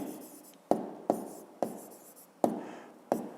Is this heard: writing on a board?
yes